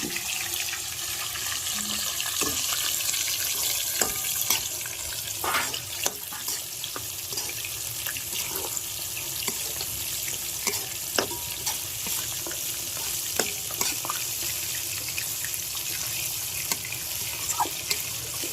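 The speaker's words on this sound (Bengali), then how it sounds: "মাছটা আমি একটু লাল লাল করে ভেজে দিয়েছি" Octopus pieces fry in spice masala in a pan, a steady close sizzle and hiss running throughout, with occasional clinks and scrapes of stirring and no talking.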